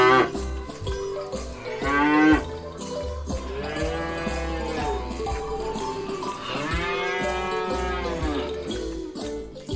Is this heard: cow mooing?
yes